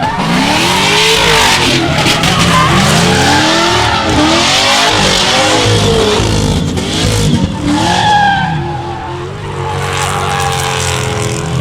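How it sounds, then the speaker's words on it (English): Drift car launching hard and then understeering at an MSC Challenge NZ 2024 drift event at Meremere: a loud, continuous engine roar with revving and tire scrub that stays up close and fills the whole stretch. "That car's a rocket off the line."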